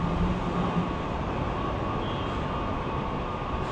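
Steady rumble and rattle inside a moving commuter train between Silver Spring, Maryland and NoMa-Gallaudet, a continuous broadband roar with a faint hum, no talking.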